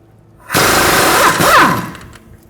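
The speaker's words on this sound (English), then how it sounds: "Using a 22mm wrench and a 22mm socket, we're going to hold the head of the bolt and take the nut off." A power tool, likely an impact gun on a 22mm socket, spins a nut off a knuckle bolt on a 2014-2019 Toyota Highlander front strut, one loud burst of about one and a half seconds, close.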